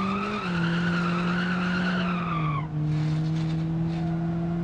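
A damaged car in a police-chase video game drives at about 120 km/h with one wheel missing, giving a loud, steady engine drone with a rising whine and a grinding scrape, close and continuous.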